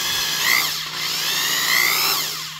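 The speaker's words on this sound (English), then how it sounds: "the other nice thing about a drill with a Planetary gearbox is it just doesn't quite scream like other tools" A Ryobi corded utility drill with an adjustable clutch and planetary gearbox runs steadily and close, its whine rising and falling in pitch as the speed changes, with no talking.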